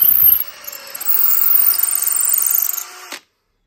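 A power drill whirs steadily for about three seconds after a brief knock, drilling into a wall, its high-pitched motor whine cutting off abruptly.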